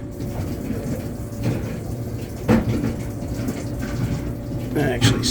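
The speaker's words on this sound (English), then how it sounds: "that'll run the water through this trap" Water drains through a sink trap in a river house during winterizing, a steady running, gurgling flow with a few brief knocks, while a voice talks over it.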